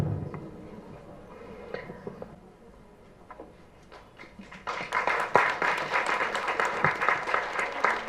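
Clapping from an audience in a full hall at an award ceremony for nurses, starting as scattered light claps, then swelling into sustained, moderately loud applause that stays fairly mild.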